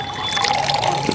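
A drink being poured into a glass, a brief close liquid trickle lasting about a second, heard alone.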